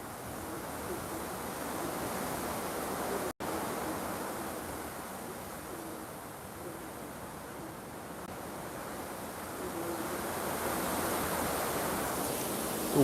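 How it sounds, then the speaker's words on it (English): A strong gust of wind roars across the outdoor deck of a cruise ship at sea, a steady broad rushing that swells louder toward the end, with no voices over it. "Nice gust coming in."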